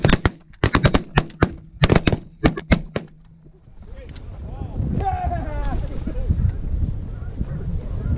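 Shotguns fire during a Canada goose hunt in the Texas Panhandle, about a dozen sharp, loud blasts in rapid irregular volleys, followed by wind noise and voices talking.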